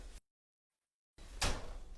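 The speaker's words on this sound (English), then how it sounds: "So let's throw this in the oven" An oven door swings shut in a home kitchen during cheesecake baking, a single close, loud thud with a brief rattle after a moment of silence.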